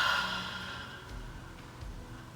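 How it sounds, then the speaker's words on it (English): Slow, deep audible breathing during a calming relaxation exercise, a soft sigh-like exhale followed by quieter breaths, close and gentle with no talk. "you can actually make these breaths audible"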